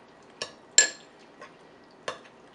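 A spoon mixes melted butter and grated parmesan into potatoes in a bowl, giving a few sparse, sharp clinks and scrapes against the bowl with short quiet gaps between them.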